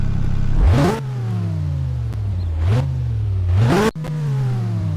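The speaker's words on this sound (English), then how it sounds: "Many of the cars actually sound really good too, especially the SF90." Ferrari SF90 engine in the Roblox racing game DriveLine, revving up in sharp rising sweeps three times, with brief gear-change dips between pulls, loud and close.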